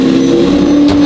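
A McLaren 720 GTR supercar being moved, its engine holding a steady, loud, close idle drone with a strong low tone throughout the short stretch.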